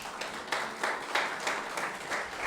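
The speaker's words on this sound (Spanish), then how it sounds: "Denle un fuerte aplauso al Señor." A church congregation claps together during a service in an even, rhythmic beat of about three claps per second. The clapping is moderately loud and is heard without speech.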